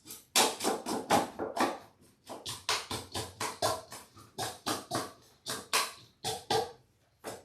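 A whisk mixes grated potatoes for latkes in a kitchen bowl, making loud, close, rhythmic strokes of wet scraping and knocking in fairly regular bursts, with no voices.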